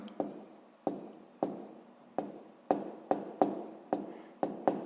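Pen or chalk strokes writing out a fraction multiplication for a sixth-grade maths exercise, about a dozen short, sharp scratching bursts in an uneven rhythm, close and clear with no talk.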